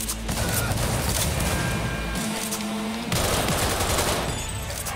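Gunfire in Cyberpunk 2077, with dense rapid shots rattling loudly and continuously for several seconds, a brief break in the low rumble midway.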